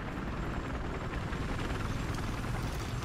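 Helicopter in the video game Battlefield 4: a continuous low rotor rumble and engine roar, loud and steady throughout with no talk over it.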